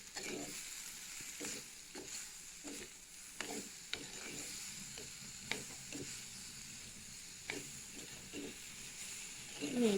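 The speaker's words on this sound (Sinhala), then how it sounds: "අපි මේකට අපේ අඹ කෑලි ටික එකතු කරගමු. එකතු කරගෙන හොඳින් කලවම් කරගමු" Mango pieces tipped into a curry frying in a pan and stirred, giving a steady close sizzle and hiss with repeated scraping and stirring knocks throughout, no voices.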